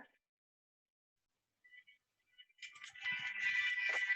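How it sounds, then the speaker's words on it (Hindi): A phone ringtone starts faintly with a few short tones, then rises into a louder melodic ring near the end, with near silence before. "एक मिनिट, सुरभि नाम का फोन है"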